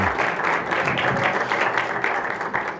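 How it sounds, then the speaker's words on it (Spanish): Audience applause after a talk on Phoenician religion at a museum, a dense, steady roar of many hands clapping throughout, loud and close, with no voices. "Merece el aplauso"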